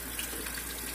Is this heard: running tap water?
yes